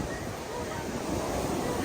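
Ocean surf rolls in while surfing at San Juan, La Union, a steady broadband wash of breaking waves with wind buffeting the microphone throughout, loud and close, with no clear voices standing out.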